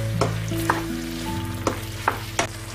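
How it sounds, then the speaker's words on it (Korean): Bok choy and shrimp stir-fried quickly in a hot pan with starch slurry, steady sizzling with a constant background hum and a few sharp scraping clatters from stirring, close and without voices. "전분물을 잘 섞어주듯이 빠르게 볶아주시고요"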